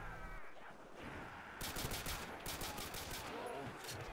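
Game AK rifle fire in a zombies map comes in fast bursts of sharp shots after a quieter stretch, faint in level with brief pauses between volleys.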